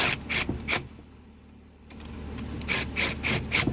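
No-hub band clamps being tightened on cast iron pipe, with bursts of ratcheting, rasping mechanical strokes at the start and again toward the end, separated by a quieter pause.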